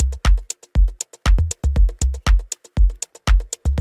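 Electronic drum groove with hits whose velocity rises and falls in a zigzag pattern, a steady loop of punchy kicks and crisp percussive strikes alternating between louder and softer accents.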